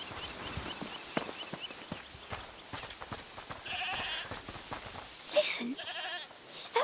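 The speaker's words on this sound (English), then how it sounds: "Is that the goat he talked about?" Goat bleating inside a house in the video game A Plague Tale: Requiem, a few short wavering bleats at moderate distance, mixed with ambient footsteps and game sounds.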